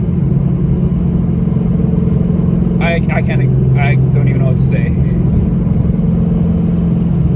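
A 5th-generation Camaro with a swapped cam roars steadily on a dyno, its deep engine drone held high and constant throughout while someone talks over it.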